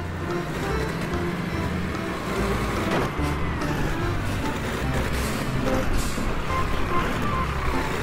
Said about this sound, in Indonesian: Mobil truk molen.